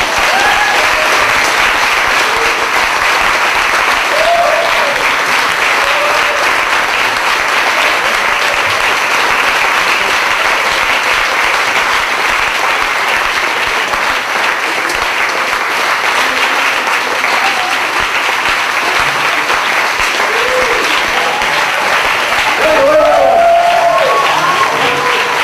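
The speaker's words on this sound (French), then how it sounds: "On l'applaudit fort!" A large audience claps loudly and steadily for a long stretch, a dense, continuous wash of applause with a few faint cheers near the end.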